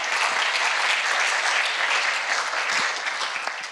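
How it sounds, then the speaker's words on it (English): Audience applause at a C-ITS road show session, a steady dense wash of many hands clapping that holds throughout and tapers slightly at the end. "Gli applausi sono sempre ben graditi."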